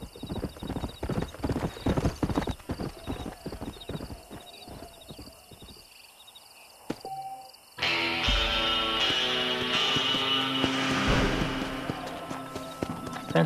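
Stallion hooves clip-clopping in the Red Dead Redemption video game, a rapid steady beat that runs under game music and ambience, with a horse whinny and a louder, busier stretch of sound partway through.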